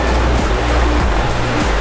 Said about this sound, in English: the waves that are coming up against the boat from behind us